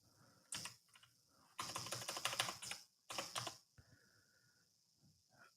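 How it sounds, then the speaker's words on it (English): Quick bursts of keystrokes as someone manually enters numbers on a computer keyboard, several close, clattering runs separated by short pauses, with no voices. "I have to manually type in numbers?"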